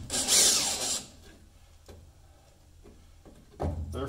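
Power drill backing trim screws out of the weather stripping on a 1965 Ford Thunderbird convertible, one loud whirring burst at the start followed by faint clicks, then a second short burst at the end.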